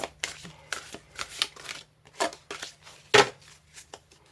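Oracle cards shuffled by hand for a reading: a series of crisp, close papery riffles and slaps in an uneven rhythm, with no talking.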